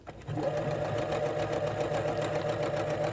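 A sewing machine stitching a straight seam in fabric, a close, steady mechanical whirr with a fast rhythmic needle tapping, starting abruptly and running continuously.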